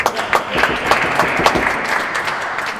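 Spectators applaud at a real tennis doubles final, a short, moderately loud burst of clapping with a few sharper individual claps standing out, steady throughout without voices.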